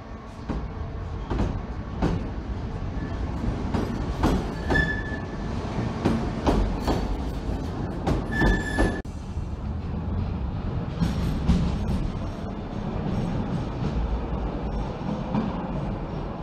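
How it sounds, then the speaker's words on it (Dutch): An old Budapest Metro Line 1 subway train, Europe's oldest subway, rumbles along, with rhythmic clacking of wheels over rail joints, sharp metallic clanks and squeals, steady and close throughout. "Dit is dus metrolijn 1 van Budapest."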